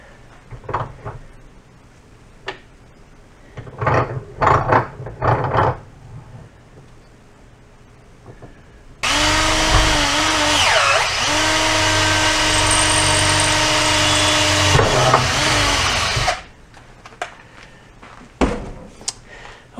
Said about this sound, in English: I'm going to just put a hole in this.